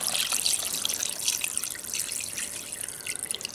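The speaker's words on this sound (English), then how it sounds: "And we're going to pour the water in." Well water poured into a pot for broth, a steady trickling, splashing stream running unbroken for several seconds at moderate loudness, with no voices.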